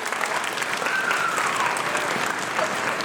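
Audience applause at a school band and orchestra concert, steady dense clapping from a large crowd filling the hall, fairly distant and even throughout.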